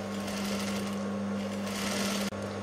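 A sewing machine stitches a blouse, giving a steady, close mechanical whir that stops briefly near the end and then starts again, with no voices.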